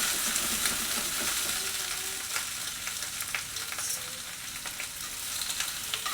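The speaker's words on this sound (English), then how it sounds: "So we're going to go ahead and stir these jalapenos and onion up." Jalapenos and onion fry in a skillet for salsa verde, a lively crackling sizzle with intermittent scraping strokes of a utensil being stirred through, steady and close with no talking.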